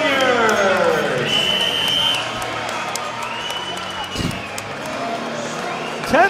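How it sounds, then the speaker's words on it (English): Boxing arena crowd on Long Island applauding and cheering during the final round of a pro fight, a dense, loud roar of clapping and voices throughout with an announcer talking over it and a sharp slam near the end. "Let's get a big Long Island round of applause for these"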